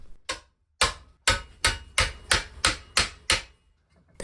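A rusty steel spade blade is hammered straight after its sheared rivets were removed. About nine sharp metallic blows ring out alone in a steady, even rhythm.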